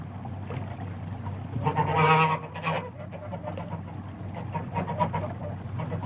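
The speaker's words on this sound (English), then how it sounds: "And there were geese." Geese honk in a short cluster of calls, loudest in the middle, over a low steady background rumble.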